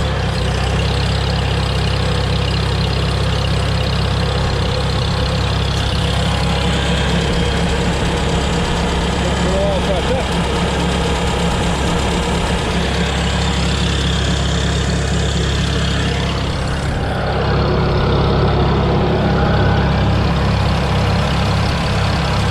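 A Farmall Super C tractor engine, just fitted with new points, runs with a loud steady low rumble and a regular chugging idle throughout, the pitch shifting briefly near the end.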